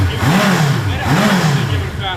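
A 1978 Suzuki GS1000EC motorcycle engine with a freshly rebuilt top end, loud and close, idling steadily and then rising in two smooth revs that fall back, with a voice speaking over it.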